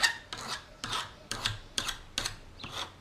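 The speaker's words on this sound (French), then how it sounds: "je vais limer les angles" A hand file rasping the rough corners of freshly cut metal bar ends. It makes six even back-and-forth strokes, close up and alone.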